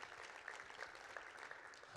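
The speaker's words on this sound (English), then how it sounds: "So yeah, round of applause." Applause from a conference audience at MUFSO, a dense, steady wash of clapping that stays fairly faint and distant for a couple of seconds.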